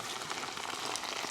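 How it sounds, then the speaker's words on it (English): Chicken pieces coated in potato starch frying in hot oil, a steady dense crackling sizzle that stays even and close throughout, with no talk over it. "I'm frying the chicken off."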